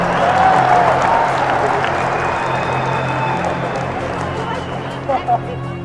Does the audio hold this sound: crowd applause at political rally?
yes